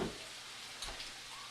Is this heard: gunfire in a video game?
no